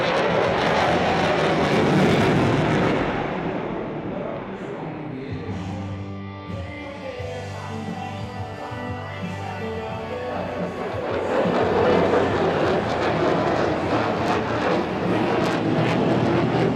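A Lockheed F-22 fighter jet roars past at the Singapore Airshow, loud and near. The deep engine noise swells, dips as the jet passes, and builds again into a sustained rumble.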